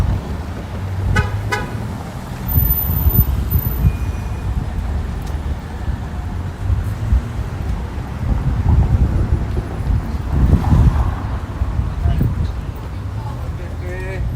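Strong wind buffets a microphone outdoors on a Toronto street, a steady low roar with gusts, along with passing car traffic and a brief horn toot.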